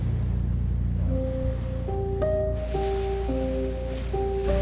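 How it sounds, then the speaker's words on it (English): Ocean waves around St. Helena, a remote island in the middle of the Atlantic, give a constant broad surf wash with a soft melodic tune playing over it. "In the middle of the ocean."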